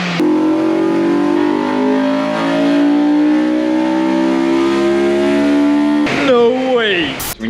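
A Honda S2000 engine fitted with a box-mod air intake revs loudly and steadily, holding a high drone for several seconds before dropping and blipping again near the end, close by.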